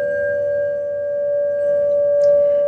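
A high, steady meditation tone for the Anahata or heart chakra rings on at even loudness, a pure sustained pitch with faint overtones and a brief soft clink near the end.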